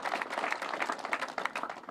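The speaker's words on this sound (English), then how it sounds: "Yeah, we can clap to that." Scattered clapping from a small audience at an airport 90th anniversary event, a brief patter of hands heard at moderate distance with no talk over it.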